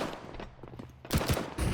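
Bursts of MP7 gunfire in a competitive first-person shooter match, with short rapid volleys of shots close up and crisp after a quieter stretch, no talk over them.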